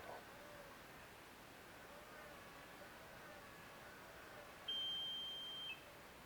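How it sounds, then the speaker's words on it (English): A single high-pitched electronic buzzer chirp from a power failure alarm circuit, triggered by a supply voltage drop, sounds for about a second against quiet background hiss. "When the main power source has a voltage drop, the alert circuit creates a warning chirp."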